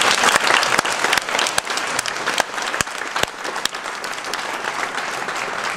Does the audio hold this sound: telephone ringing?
no